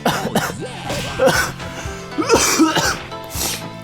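A commentator coughs several times in short bursts while reviewing a Mugen fighting-game character, with game sounds and music continuing underneath.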